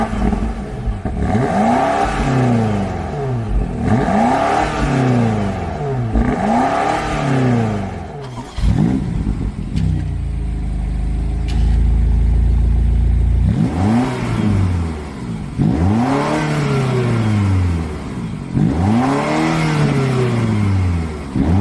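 A 2023 BMW X5M/X6M Competition mild hybrid with a 4.4-litre V8 revs loudly up close: several rhythmic blips in a row, then one longer sustained climb and fall, followed by more repeated revs.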